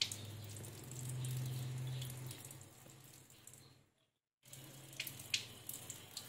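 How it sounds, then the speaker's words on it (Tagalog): Water pours steadily into the cooling system of a Yamaha NMAX V1 207cc motorcycle with a hissing, tap-like flow. It breaks off into a brief silence, then resumes with scattered splashes and drips, close by. "karga natin ng tubig"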